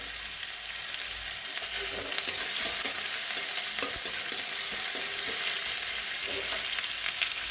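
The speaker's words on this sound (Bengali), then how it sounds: "কড়াইয়ের তেল গরম হয়ে গেছে। এখানে পেঁয়াজটা দিয়ে দিচ্ছি।" Onions sizzle and fry in hot oil in a wok, a steady close crackle with stirring scrapes and clinks running throughout, no voices.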